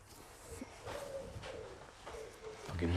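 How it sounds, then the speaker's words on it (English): Soft, distant cooing from a pigeon recurs in short repeated phrases over a quiet outdoor background, faint and unaccompanied by talk. "noisy pigeon now"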